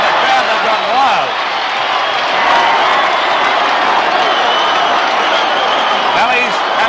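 At a rugby league grand final, the crowd keeps up loud, sustained cheering and applause after a successful goal kick, a thick, unbroken roar with a commentator's voice riding over the top.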